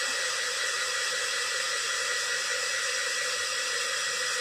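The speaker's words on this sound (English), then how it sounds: "Okay, I do need to blow dry this." A hair dryer blows steadily and close up on a DIY primitive farmhouse decor craft, a continuous loud broadband whoosh with no talk over it.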